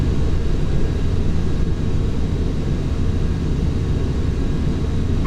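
Airliner climbing out after takeoff in Microsoft Flight Simulator X, a steady loud engine roar with broadband rumble and hiss that holds constant throughout, no speech over it.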